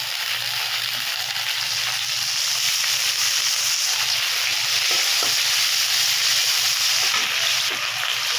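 Nunia rice frying in a pan with cut potatoes and a little salt for papaya ghonto gives a steady, loud sizzle that holds evenly throughout, with no voices.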